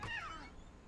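A cat meows in the video game What Remains of Edith Finch, a single short, fairly faint descending mew.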